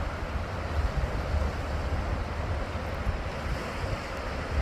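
Pacific Ocean waves crash against rocks in a steady, dense roar of surf, with low rumbling wash and wind noise running continuously throughout, and no voices.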